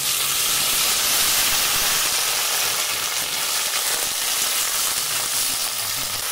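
Mixed vegetables and green chillies sauté in mustard oil in a wok, giving a loud, continuous sizzle and hiss that runs without pause from start to finish.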